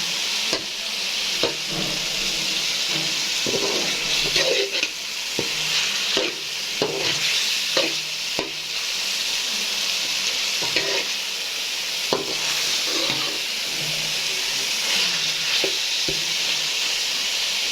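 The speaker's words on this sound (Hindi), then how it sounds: "तो अब इसमें मैं ऐड करने जा रही हूँ चिकन। थोड़ी देर भूनूँगी" Chicken pieces fry with a steady broadband sizzle in a pan, broken by repeated scraping strokes of a spoon stirring them, close and continuous with no talking.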